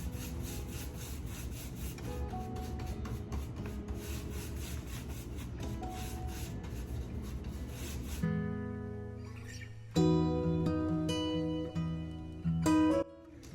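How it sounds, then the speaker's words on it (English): Wax rubbed by hand across a Dollar Tree fall decor piece makes a steady, close scrubbing and scraping for about eight seconds, then gives way to tonal background music. "You just put the wax on and you take the wax off."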